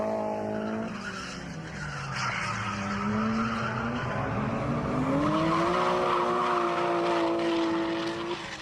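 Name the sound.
Toyota JZX110 with IHI turbo drifting at Nikko Circuit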